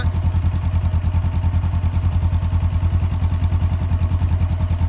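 A 2018 Honda CBR500R motorcycle with its stock exhaust idles close by, a loud, steady low-pitched engine throb with quick, even pulses that continue unchanged throughout, with no revving and no talking.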